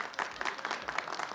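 Studio audience applause on a comedy panel show, a quick burst of scattered hand claps, fairly faint and brief, with no talk over it.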